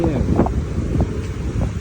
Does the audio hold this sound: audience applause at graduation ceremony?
no